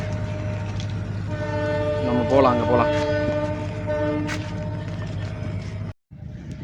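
A train on a test run across the new Pamban railway bridge sounds a long, loud, wavering horn over a steady engine rumble and track noise, while someone talks throughout; the sound drops out briefly near the end.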